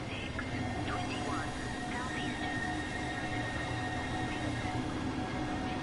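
Train running in Train Sim World 6 after leaving a tunnel under a 50 mph limit, a steady rumbling rail drone with faint squeals and whines above, continuous and fairly loud throughout.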